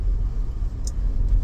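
Heard from inside a moving car, a steady low road rumble and engine drone fills the cabin, with no voices.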